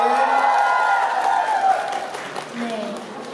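An audience at a live music showcase breaks into applause, a steady round of clapping and light cheering that fades out over a few seconds while someone speaks on top of it.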